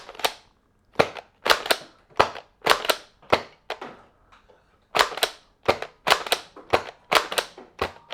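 Nerf Elite Jr Rambler toy blaster, a pump-primed blaster with an 8-dart barrel, fires darts one after another: sharp close snapping shots in irregular bursts, each with a short spring rattle, with no voices.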